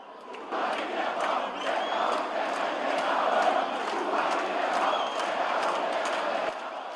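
Flamengo supporters in a football stadium give a player an ovation, a broad, sustained crowd roar with cheering voices rising and falling, heard from a distance for several seconds before easing slightly.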